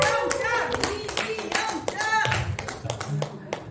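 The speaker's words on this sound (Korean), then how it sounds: "수고해주신 이미영 지사장님한테 다시 한번 큰 박수 부탁드리겠습니다" An audience claps for a lecturer after a talk on diet and fasting, a brisk burst of hand claps close by with voices mixed in underneath.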